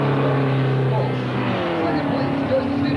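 Demolition derby cars racing on a track during a ten-lap race, a steady loud engine roar with wavering revs, heard under a commentator talking over a public address system.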